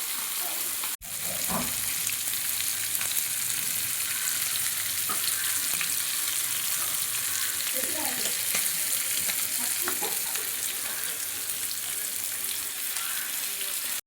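Bangda mackerel fries in a pan in a Konkan home kitchen, a dense, constant sizzle and crackle close by, with a brief knock near the start and a few faint background sounds.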